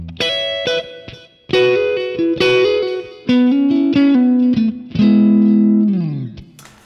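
An electric guitar plays a major-scale melody using two-note chords, with each double-stop struck and left ringing in short phrases, and light effects giving a fuller tone.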